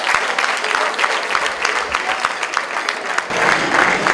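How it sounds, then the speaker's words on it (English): Audience applause at an inaugural lecture hall event, a dense continuous round of clapping that swells louder near the end, with faint crowd noise underneath. "a better round of applause for the Prof"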